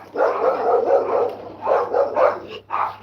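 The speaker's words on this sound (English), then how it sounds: "the fucking dogs are out barking" Several dogs bark in rough bursts close by, with a low steady hum underneath, as they are let out into a yard.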